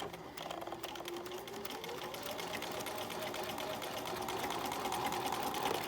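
Sewing machine running steadily through fabric during a back stitch, a continuous whirring motor hum with rapid needle clatter that holds at a constant level for the whole stretch, close by with no talking.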